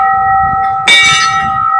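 A metal temple bell at a newly consecrated Hanuman temple rings out, a humming tone sounding first and then a sharp bright strike that rings on, close and loud.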